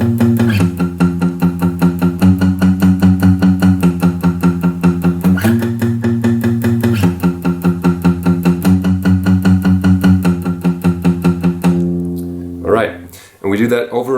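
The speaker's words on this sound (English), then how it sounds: "The second guitar in the acoustic version is playing the same thing but in a lower intonation." A second acoustic guitar strums steady 16th-note down strums on chords low on the neck, a continuous rhythmic pattern with chord changes, ending in a short pause and a few scratchy noises.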